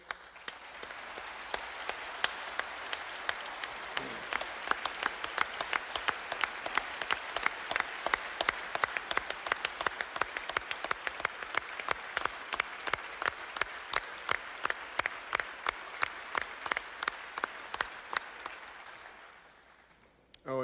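Sustained applause from a large audience at a State of the State address, greeting the Attorney General; dense steady clapping carries on for about twenty seconds at moderate distance, then fades at the end, with no voices over it.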